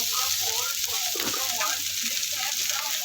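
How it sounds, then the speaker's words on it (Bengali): Pointed gourd (potol) pieces frying in oil with a pinch of salt give a steady, soft sizzling hiss, with a brief stirring scrape in the middle. "আমি এখানে পটলটাকে একটু ভালো করে তেলের মধ্যে ভাজা ভাজা করে নেব"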